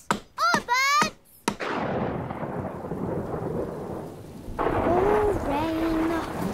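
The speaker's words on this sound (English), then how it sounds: "Oh, rain." Cartoon thunder cracks and rumbles loudly at the start, then steady rain hisses throughout, with a voice briefly speaking over the downpour near the end.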